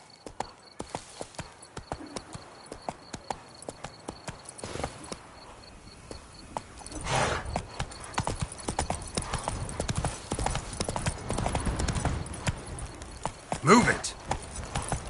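Horse hooves clip-clop rapidly at a gallop in The Witcher 3, steady and close throughout, with a whinny near the end; game voices and sounds occur around it.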